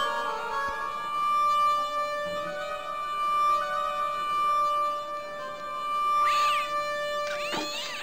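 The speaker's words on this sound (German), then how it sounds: "Vielleicht müssen wir die Katze streicheln und dann..." Cat meowing after being petted in the adventure game Baphomets Fluch (Broken Sword), several drawn-out meows over quiet game ambience with a steady background tone.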